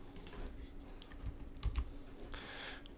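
Keys clack on a computer keyboard at a steady, moderate pace, up close in a quiet room, as fields are filled in within EPLAN electrical design software. No one speaks.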